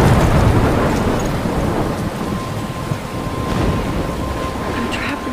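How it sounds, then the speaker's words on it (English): A thunderstorm in a game setting near a lighthouse, with steady heavy rain and wind and rumbling thunder that swells and fades throughout, loud and continuous with no voices. "I'm trapped in a storm?"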